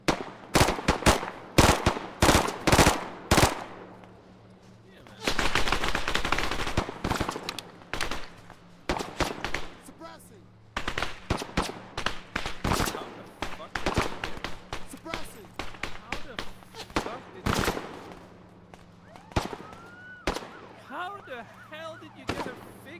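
Video game gunfire in Bad Boys: San Antero Beat, with dense rapid bursts of shots and automatic fire across the whole stretch, loud and close, and voices talking in between.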